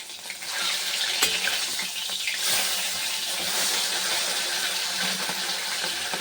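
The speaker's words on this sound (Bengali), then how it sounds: "আলুগুলো ভেজে দিই" Potatoes frying in hot oil alongside fish in a pan for a Bengali amudi fish curry, a dense steady hiss of sizzling close by, fairly loud and continuous with a few sharper spits.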